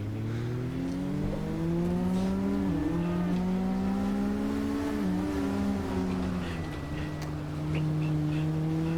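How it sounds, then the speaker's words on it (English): A race car engine in a racing video game drones continuously with shifting revs and pitch swoops as the car hits gear changes, loud and up close throughout, with occasional pops of exhaust backfire. "The backfire, it's great watching that."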